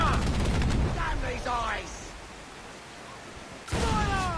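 Ship cannons fire in a naval battle in Assassin's Creed 4: Black Flag, booming broadside blasts at the start and again near the end, with crew voices shouting orders between the volleys.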